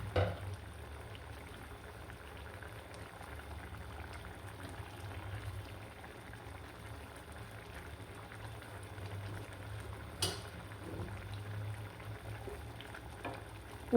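A pot of sour hog plum (amra) curry with small rohu fish simmers under a lid on the stove, giving a soft, steady bubbling hiss with a faint low hum and a couple of brief clicks.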